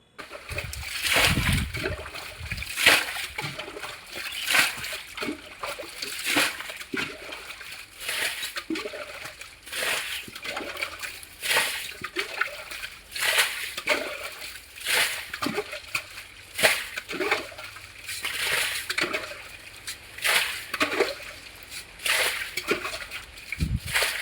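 Water splashing and sloshing as a pot scoops it out of a pit in a village home where a water pipe is being laid, with repeated rhythmic scoops and splatters throughout, close by and fairly loud.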